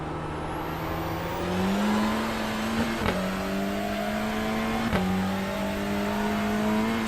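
Touring car engine in iRacing at Knockhill, a loud, close, steady drone with pitch climbing through the gears, clear shifts around three and five seconds, alone without talk.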